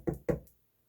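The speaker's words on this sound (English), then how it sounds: "So they knocked on Mr. Wolf's door." Two sharp knocks rap on a door in quick succession, close and clear, then the sound falls to silence.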